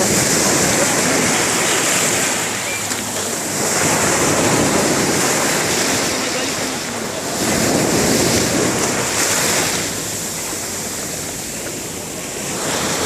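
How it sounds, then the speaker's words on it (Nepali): Loud, continuous surf washes in and out in slow swells, mixed with strong wind rumbling against the microphone. "अहिले यो छाल आइरहेछ कति राम्रो"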